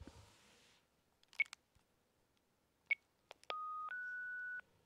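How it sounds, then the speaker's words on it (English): Incoming call on a radio talk show line: faint clicks followed by a steady two-tone telephone beep, quiet and isolated against near silence. "So we got a phone call here."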